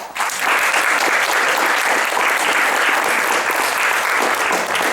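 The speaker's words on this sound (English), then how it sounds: "Let's give them a round of applause." Sustained audience applause fills a talk event, loud and dense from start to finish with no voices over it.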